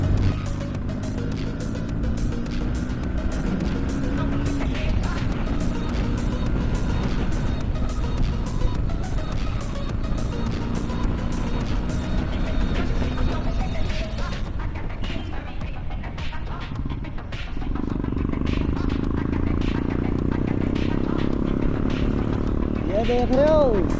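A Bullet motorcycle rides down the road with a steady engine drone and shifting pitch as it changes speed, and someone talks over it throughout.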